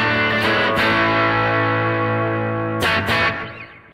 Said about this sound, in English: let me put some slapback delay,